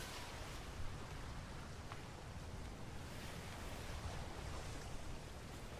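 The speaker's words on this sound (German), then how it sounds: "Der Wind ist halt gerade richtig nervig" Wind and surf on the open sea in the survival game Atlas, sailing against a headwind: a steady, quiet wash of broadband rushing noise with faint swells, no voices.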